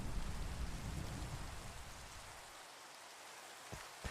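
Steady Minecraft rain hisses as a dense, even wash that softens partway through, with a couple of faint thumps near the end and no voices over it.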